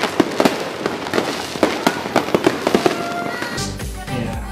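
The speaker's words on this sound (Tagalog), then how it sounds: "yung mga maliliit na firecrackers" Small firecrackers set off in the Philippines, a loud irregular string of sharp pops and cracks in quick succession, some overlapping, with a muffled rumbling thud at the end.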